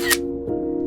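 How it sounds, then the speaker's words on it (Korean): A phone camera shutter sound effect gives a single crisp click, followed by a short sustained electronic tone, close and clear. "무의식 중에 핸드폰을 꺼내 셔터를 눌렀습니다"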